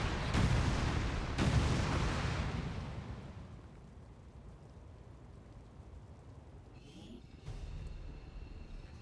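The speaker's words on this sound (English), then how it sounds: "Detonating charges." Detonating charges in a video game go off as broad, rumbling blasts, two heavy bursts early that fade into a low roar, with another swell near the end.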